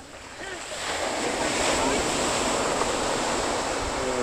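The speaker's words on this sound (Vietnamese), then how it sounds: "Sóng biển dạt vào." Sea waves wash steadily onto a beach at Phan Rang in the morning, a broad continuous roar of surf that swells slightly after the first second and stays loud and close, with no talking.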